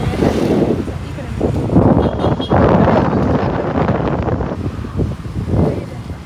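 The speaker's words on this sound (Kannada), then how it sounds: "ಫುಲ್ ಗಾಳಿ ಎಲ್ಲ ಬರ್ತಾ ಇದೆ." Strong wind buffets the microphone outdoors on the edge of Bangalore as rain clouds gather, a loud, steady rumbling roar with gusts throughout, and a person speaks over it.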